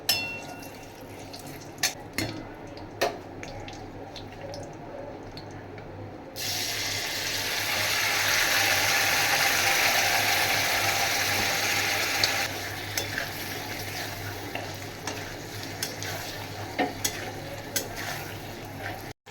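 Marinated paneer, coated in onion and garlic paste, drops into a hot kadai with a sudden loud sizzle that holds for several seconds, then settles into quieter frying broken by clinks of a spoon against the pan.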